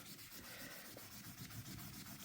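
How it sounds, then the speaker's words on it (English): Someone scrubbing a black line off a painted wall at home, a steady close rubbing swish repeating back and forth without pause and with no talking. "I said I just have to keep scrubbing. Going over and over and over."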